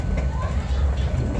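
Railroad cars on the SAM Shortline rock and rumble along the rails in a continuous low, rolling drone with faint clatter, heard from inside the moving train.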